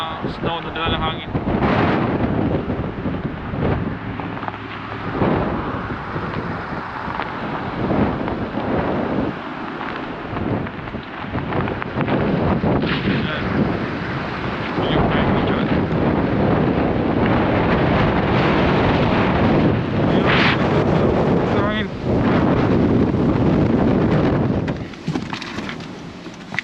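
A strong blizzard in Manitoba, Canada, with about 60 km/h wind driving blowing snow, loud gusty buffeting and roaring close against the microphone for the whole stretch.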